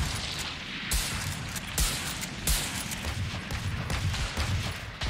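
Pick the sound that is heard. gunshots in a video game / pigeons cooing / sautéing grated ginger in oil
gunshots in a video game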